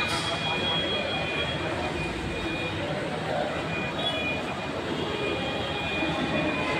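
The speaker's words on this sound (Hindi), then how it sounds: "इस समय मैं हूँ दिल्ली के मेट्रो स्टेशन पे" Steady, loud broadband rumble and rush at a Delhi metro station as a train runs through, continuous for the whole stretch with a faint high whine above it.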